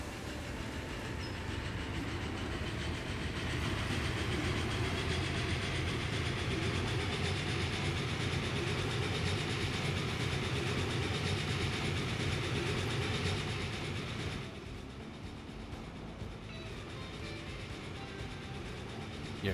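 Game train running on rails in Transport Fever 2, a steady rolling rumble with faint clickety-clack that drops in level after about fourteen seconds and then continues more quietly, with no talking.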